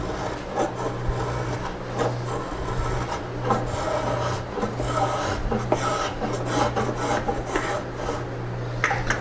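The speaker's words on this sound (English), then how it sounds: "And then to smooth it out, I've got my trusty Lee Valley spoke shave." Lee Valley spokeshave smoothing a carved wooden ball-and-claw foot for a highboy, a close, continuous raspy scraping of repeated strokes with slight chatter, no speech.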